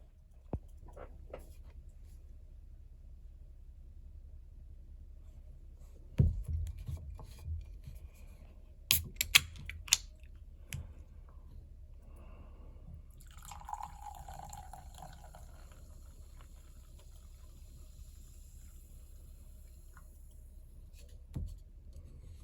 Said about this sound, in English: let's do what we do here on the Canned Wine Podcast and open this wine